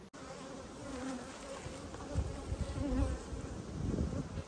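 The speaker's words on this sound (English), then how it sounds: "Just look at that passage of bees." A dense, steady hum of many honey bees buzzing at their hives fills the air, a continuous droning swarm with no voices.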